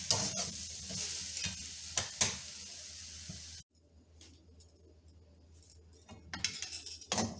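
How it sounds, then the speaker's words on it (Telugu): A spoon stirs sugar syrup in a pan over a low flame, giving scraping and gentle sizzling at close range, briefly quieting midway before light clinks and stirring return. "ఇలా సిమ్లో పెట్టుకుంటూ కలుపుతూనే ఉండాలి."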